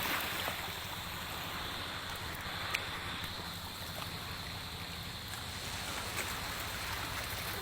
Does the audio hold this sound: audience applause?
no